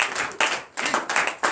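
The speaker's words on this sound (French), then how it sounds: "Donne l'acclamation." Rhythmic clapping from a church congregation during a morning prayer service in Benin, sharp claps in steady bursts with brief gaps, close and fairly loud.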